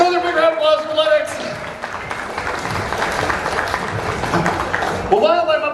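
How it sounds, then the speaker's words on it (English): Sustained crowd applause for a volunteer at a world-record chainsaw juggler's show at the 97th Annapolis Valley Exhibition, a dense wash of clapping with a voice speaking before and after. "Another big round of applause for Lennox."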